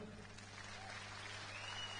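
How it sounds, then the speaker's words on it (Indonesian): Faint, distant applause from an audience at a religious lecture: a soft, even patter of many hands clapping that lasts about two seconds. "Kasih tepuk tangan dulu."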